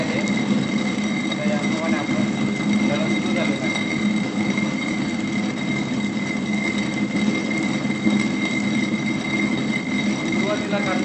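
A homemade stone flour mill grinds grain with a steady, continuous rumbling drone that stays loud and even throughout, with no gaps and no talking over it.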